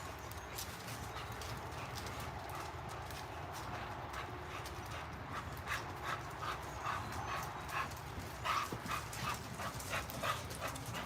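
Dogs sniff closely around a person outdoors, a steady breathy snuffling over constant background noise with a few sharper bursts toward the end.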